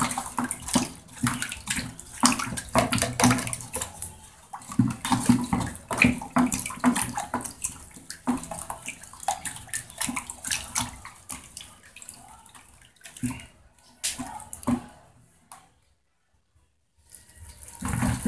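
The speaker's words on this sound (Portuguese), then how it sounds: "Eu tenho lá 2 litros de água que está esquentando para nós colocarmos aqui." Hot water poured into a homemade liquid basil soap mixture, splashing and gurgling in irregular bursts with brief pauses and a short silence near the end.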